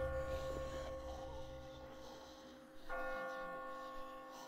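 Church-like bells toll in the video game The Walking Dead, a sustained ringing tone that fades and then strikes again louder partway through over a low hum.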